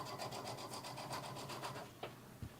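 Sewing machine fitted with a walking foot stitching through fur and faux leather, a fast steady rhythmic clatter of needle strokes, close and moderately loud, ending with a couple of clunks as it stops.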